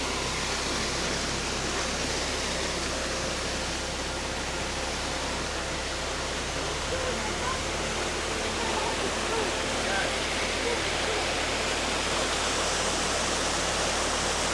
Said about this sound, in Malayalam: ഇവിടെ ചെറിയൊരു വെള്ളച്ചാട്ടം ഉണ്ട് കേട്ടോ.